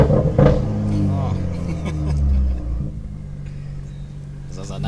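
A BMW M2 with an N55 engine on an MHD Stage 2+ tune lets off. A loud low exhaust rumble rolls and gurgles, then settles into a quieter idle-like drone.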